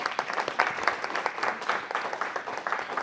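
Applause at a city council meeting, honoring a brother and sister duo: a steady, dense wash of many hands clapping in a hall, continuous for the whole stretch.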